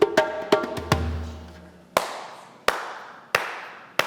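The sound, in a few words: hand clapping to music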